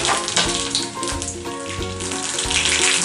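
Mustard seeds and a pinch of fenugreek sizzle and pop in hot oil for an Onam puli inji, a continuous close frying hiss with scattered sharp crackles and pops.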